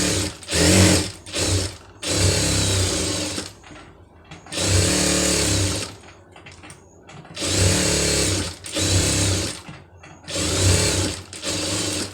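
Sewing machine stitching the lining of a blouse, loud close mechanical whirring in several bursts of a second or two each, separated by short pauses and clicks as the fabric is adjusted.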